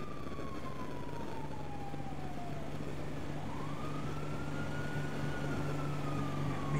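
An ambulance siren in GTA V sweeps down and then rises again in a slow wail, sustained and prominent over a steady engine-like hum, with no voices.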